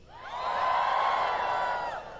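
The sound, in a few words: congregation shouting and cheering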